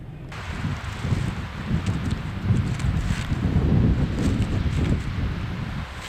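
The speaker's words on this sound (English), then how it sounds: "this is some crazy windy weather" Strong gusty wind buffeting the microphone outdoors in Mammoth Lakes during a storm, a steady low roar with surging gusts throughout.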